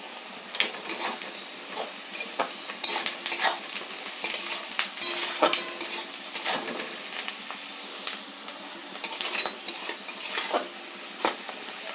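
Sliced onions fry with a pinch of salt in a pan for a lote fish jhuri, stirred briskly with a metal spatula that scrapes and clatters again and again over a light, steady sizzle, close and fairly loud.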